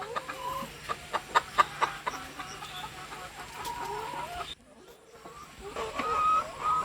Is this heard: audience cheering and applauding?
no